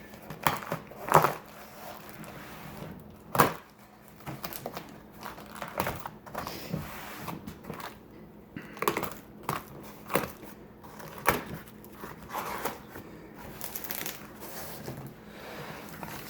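A large cardboard box about 24 by 24 inches is torn and pried open, giving scattered crackling rips, rustles and sharp taps at an irregular pace, close by with no talking.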